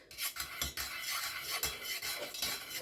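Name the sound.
stirring dye into melted candle wax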